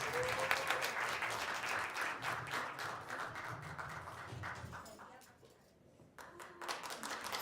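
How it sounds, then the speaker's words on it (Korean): An audience claps in sustained, dense applause that dips briefly before swelling again. "박수 부탁드립니다"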